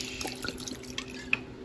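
A small splash of liquid from a Trader Joe's bottle goes into a pan while cooking shrimp scampi, heard as faint, brief drips and trickles in a quiet kitchen.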